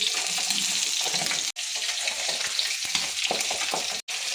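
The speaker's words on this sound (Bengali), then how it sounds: "পাবদা মাছটাকে এখন আমি ভালোভাবে ভেজে নিচ্ছি।" Pabda fish frying in hot oil, a loud, steady, continuous sizzle with a brief sharp break twice, close up and with no talking.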